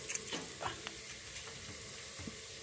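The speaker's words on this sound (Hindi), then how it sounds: "अब इसमें थोड़ी सी हल्दी मिक्स करेंगे" Turmeric is stirred into pumpkin sweet (kaddu ka meetha) in a frying pan, giving a steady close sizzle with scraping stir strokes and no talk.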